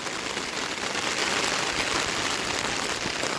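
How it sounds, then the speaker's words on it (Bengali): Steady, dense rain pours down continuously in the Sundarbans, a loud even hiss with no pauses or voices. "আবার বৃষ্টিটা চেপে আসছে"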